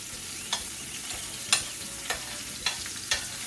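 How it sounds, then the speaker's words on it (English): Onion and garlic sauté in avocado or other oil for a black bean sauce, a steady close sizzle broken by five sharp utensil scrapes and stirs spaced about half a second apart. "We're going to saute or lightly fry this onion and garlic"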